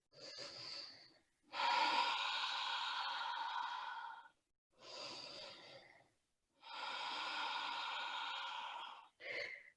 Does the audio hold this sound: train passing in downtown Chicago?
no